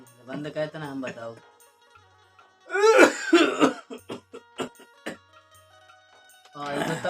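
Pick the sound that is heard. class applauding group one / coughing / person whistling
coughing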